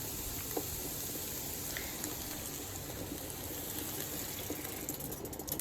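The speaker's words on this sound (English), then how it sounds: "I'm going in with some hot water." Hot water pours steadily into a pot of coconut chickpea curry, a continuous soft gushing wash with no breaks and no voices over it.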